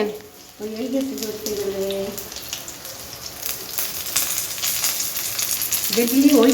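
Cauliflower fritters fry in hot oil with a steady bubbling sizzle and crackle, while a voice speaks briefly at the start and again at the end.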